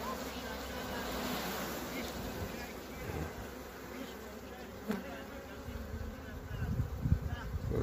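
A dense swarm of bees hums in a continuous, close buzz that swells and thickens toward the end, with faint voices now and then underneath.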